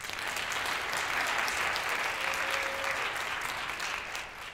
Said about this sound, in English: please a round of applause for Ms. Nykirk.